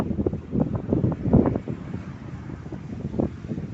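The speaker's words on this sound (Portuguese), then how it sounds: "Tá ventando bastante, eu não sei como é que tá." Gusty wind near a road rumbles against the microphone in uneven bursts, a low blustery roar throughout.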